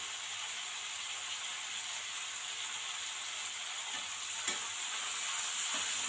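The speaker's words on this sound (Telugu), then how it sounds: "కొత్తిమీర కూడా బాగా ఫ్రై అయిపోయేదాకా వేపుకోవాలి." A steady, soft frying hiss from a handful of coriander leaves in a pan, continuous throughout, with a few faint stirring scrapes near the end; no voices.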